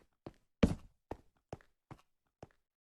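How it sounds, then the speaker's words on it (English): Footsteps echoing in a video game cave: about six separate hollow steps spaced roughly half a second apart, fairly close and faint, with one heavier first thud and nothing else around them. "It's Footstep."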